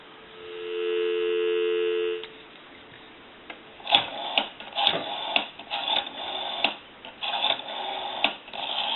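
A Western Electric Princess telephone gives a steady dial tone that hums for about two seconds, then stops, followed by a series of uneven clicks and buzzy bursts on the line.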